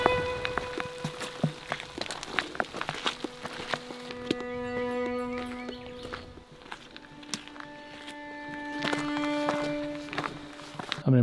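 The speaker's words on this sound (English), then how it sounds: "Started raining as soon as we took our first step" Rain patters with scattered drips and taps close by, joined by hiking footsteps and faint rustling on a Colorado mountain trail, with no one speaking.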